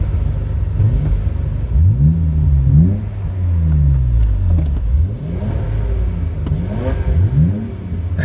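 A BMW 333i engine revs repeatedly as the car approaches, rising and falling in several loud throttle blips that swell and fade over a rumbling idle.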